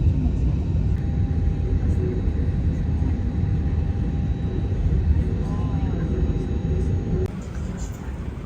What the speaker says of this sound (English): There are a lot of planes here